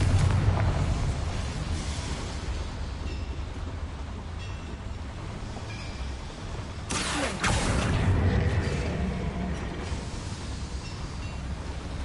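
A heavy, rumbling explosion from a Bombarda blasting spell cast in a video game set in a mine with boilers, loud and sustained with a sharp burst midway, and no voices.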